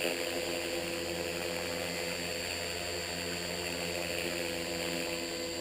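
An upgraded radio-controlled EXI 450 Pro helicopter in flight gives a steady, high-pitched rotor and motor whine with a buzzing drone, holding level throughout without any talk.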